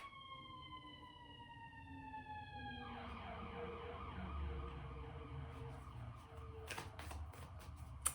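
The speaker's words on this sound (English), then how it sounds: "Sirens." Emergency vehicle siren wailing with rising and falling tones, then shifting to a faster yelping pattern partway through, heard over steady low traffic rumble at moderate distance.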